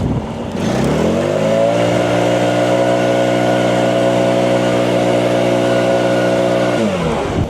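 A leaf blower clears snow off a driveway, its motor revving up to a loud, steady drone that holds for several seconds before dropping away, close to the microphone.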